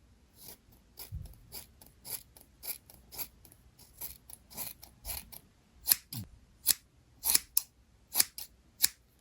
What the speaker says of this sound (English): I'm gonna try to be very careful when I'm trimming her because I don't want it to be too short